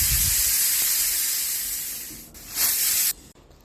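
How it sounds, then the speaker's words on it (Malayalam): A pressure cooker cooking chickpea curry lets off a loud, high steam hiss that fades gradually, then gives one more short burst of release before stopping abruptly. "കുക്കർ അടച്ച് വെച്ച് ഒരു 4 to 5 വിസിൽ വരെ നമുക്ക് വേവിക്കാം"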